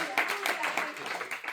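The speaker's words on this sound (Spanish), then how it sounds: "Dale un aplauso a Cristo" A church congregation claps together during a Pentecostal service, a short burst of rhythmic, roomy hand claps blended with voices.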